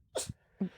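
A single short sneeze, quick and fairly faint, followed by a brief vocal sound, heard alone without speech.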